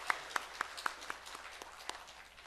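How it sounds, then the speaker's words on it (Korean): Church congregation applauding a children's choir during Sunday worship: a steady run of distinct, evenly spaced claps over a soft background of room noise. "다시 한번 크게 박수해 주시면 감사하겠습니다."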